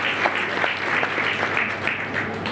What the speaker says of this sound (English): Let's clap hands for Mrs. Tau.